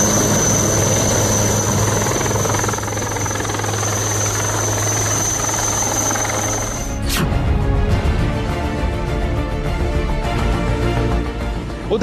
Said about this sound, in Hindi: बाढ़ में फंसे लोगों को सुरक्षित बचाने के लिए सेना के हेलीकॉप्टर को बुलाया गया।